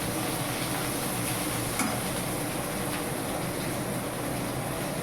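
Eggplant slices fry in a pan with a steady, even hiss of sizzling oil that runs unbroken throughout, fairly faint and close, with no talking.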